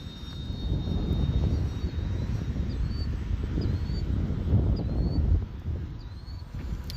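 An Arrows RC Bearcat model airplane's electric motor runs at throttle in flight with a thin, wavering whine. It sits under heavy, rumbling outdoor wind noise and swells briefly before easing off.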